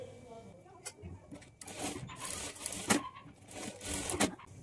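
A sewing machine stitches the shoulder joint of a blouse in short, quiet bursts of rapid mechanical clatter separated by brief pauses, while someone talks over it.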